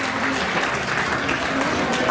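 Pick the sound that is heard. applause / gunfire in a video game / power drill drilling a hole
applause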